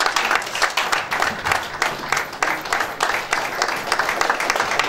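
Standing applause from the audience at a surveyors' memorial lecture and fellows induction ceremony, honouring the institution's president; steady, fairly close clapping from many hands, filling the whole stretch without talk.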